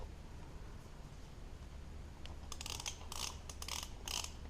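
Ratchet snugging bolts back up on a custom motorcycle exhaust on a bobber, several quick clicking bursts near the end after quiet handling, close and moderately loud.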